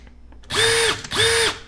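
A Makita or Metabo HPT subcompact cordless drill spins up twice in quick succession, each time with a loud, high whine that holds for about half a second before winding down, recorded close up.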